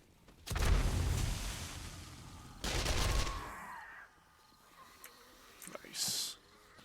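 Pipe bombs blowing up in a game, dropped down below: two loud broadband blasts in quick succession with rumbling tails, then a quieter stretch with small pops and a brief bright burst near the end.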